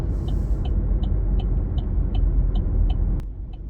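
A car driving onto the Highway 410 northbound ramp gives off a steady, loud engine and road rumble, with a regular ticking like a turn signal clicking throughout, ending in a sharp click.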